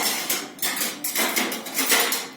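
Metal spoons and steel utensils clink and clatter in a kitchen drawer or rack, a string of bright, irregular rattles and knocks close by with no talking.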